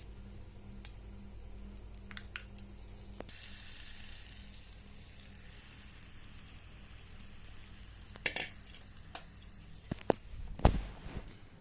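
Chana dal, dry chillies, cumin and curry leaves fry in hot oil with a quiet steady sizzle, joined near the end by a few louder crackles and clinks of stirring.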